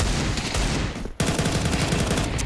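Rapid automatic gunfire in the video game Counter-Strike 2 during a competitive match, a loud dense burst of shots, a brief gap, then another sustained volley close up.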